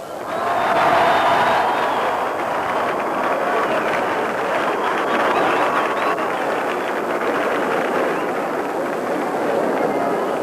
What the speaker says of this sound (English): have a big round of applause for a couple of just arrived great friends of Gibraltar, Lord and Lady Merrill